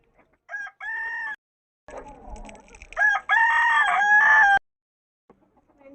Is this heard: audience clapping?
no